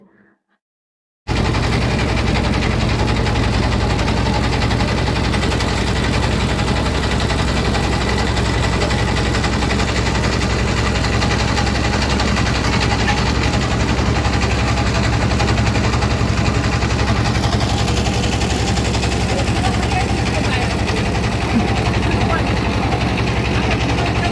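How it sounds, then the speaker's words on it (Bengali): A boat's motor on a river runs at a constant loud drone from about one second in, steady and close throughout, with a voice talking over it. "তো এই যে আমাদের নৌকা চলা শুরু হয়েছে।"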